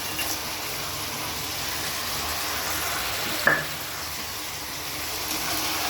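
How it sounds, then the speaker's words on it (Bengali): Cauliflower, potato and oil-fried lentil dumplings stir-fry together in a pan, a dense continuous sizzle close up with a single sharp clink from the stirring spoon midway. "এবার বড়িটা সহ এটাকে কষিয়ে নেব।"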